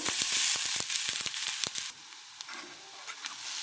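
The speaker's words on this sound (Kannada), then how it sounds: "ಒಗ್ಗರಣೆ ಚಟಪಟ ಅಂತ ಇದೆ ಇವಾಗ ತುರಿದಿಟ್ಕೊಂಡಿರೋ ಬಾಳೆಕಾಯಿನ ಹಾಕ್ತಾ ಇದ್ದೀನಿ" Grated raw banana sizzles in a crackling tempering of oil, rapid sharp pops and spits over a bright hiss that suddenly drops to a quieter sizzle with occasional pops.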